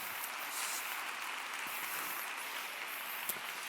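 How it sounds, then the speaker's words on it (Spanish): Audience clapping at a popular science talk in Spanish, steady and diffuse, heard from a distance at low volume as a continuous hiss of many hands. "No sé si es lo más apropiado dar aplausos a cosas nazis"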